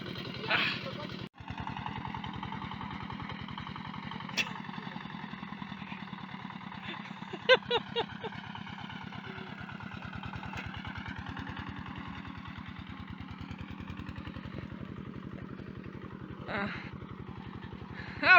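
A walk-behind tractor (motoblock) engine chugs steadily and loudly at close range on a road to the forest, with brief clanks and people talking over it.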